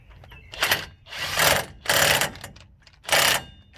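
A battery-powered impact tool fires in four short bursts, tightening bolts on a 1998 GMC K1500 during a front hub bearing job, each rattling burst close and loud with brief pauses between.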